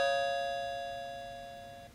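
One clear electronic chime rings out from a small receiver and slowly fades over about two seconds, close and alone.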